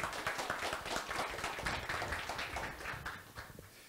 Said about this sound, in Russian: навалим аплодисментов